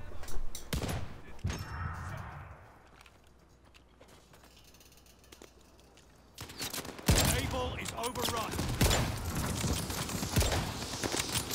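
Gunfire in Call of Duty Vanguard, a Kar98 sniping match with a teammate's riot shield nearby: sharp reports and mechanical clatter in a dense burst after a quieter stretch, loud and close, with a voice talking at moments.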